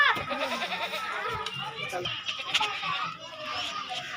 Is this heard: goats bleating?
yes